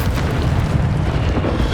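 A booming, explosive magic-spell blast from the video game Hogwarts Legacy, a dense, continuous low rumble that holds steady and loud throughout with no speech.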